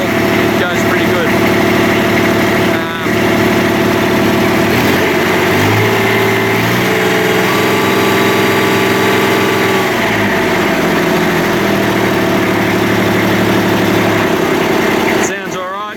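Loud, close Kubota B2100 tractor engine idling after a cold start, a steady rattling diesel drone with shifting tones midway, blowing a bit of smoke from worn injectors, running continuously to the end.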